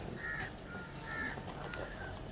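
Pigeons at a Sunday pigeon market give a few faint, scattered calls over low background murmur and ambient noise.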